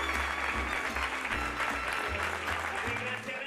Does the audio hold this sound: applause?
yes